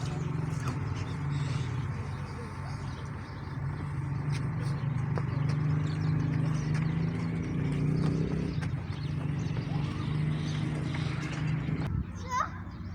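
Hooves clip-clop in a steady rhythm on a horse ride through a park in Mahria Town, Attock, with children's voices and talk going on around the animal.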